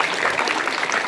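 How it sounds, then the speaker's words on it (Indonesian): Applause for a school Paskibra drum band at a junior high school's National Education Day ceremony: a brief burst of dense crowd clapping, bright and even, heard alone. "tepuk tangan untuk Paskib drum band kita"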